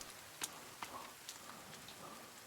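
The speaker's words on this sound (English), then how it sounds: "Ah, It's raining, man." Rain falling in the survival video game The Forest, a soft, steady patter with a few sharper droplet ticks scattered through, faint and even, with no voices.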